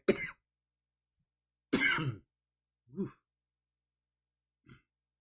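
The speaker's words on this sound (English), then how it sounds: "Excuse the coughing." Four separate coughs and throat-clearing sounds, close and loud at first then fading, with silent gaps between them.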